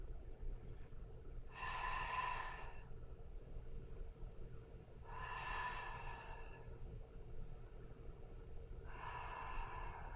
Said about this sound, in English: 3 deep breaths. Close your eyes for a second.